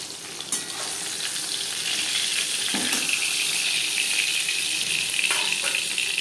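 Fish marinated in salt and turmeric frying in a pan of hot oil, a loud continuous close sizzle and crackle with faint stirring clatter and no talk.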